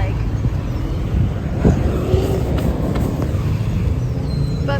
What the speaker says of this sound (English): Peru has a lot of traffic.